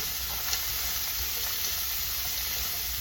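Shrimp fried rice with peas and carrots being stirred in a hot pan, a dense steady sizzle with faint scraping pulses, close and even throughout.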